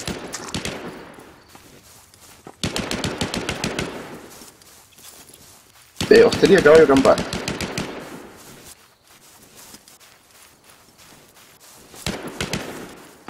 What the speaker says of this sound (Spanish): Tanto tiro, ¿de dónde viene?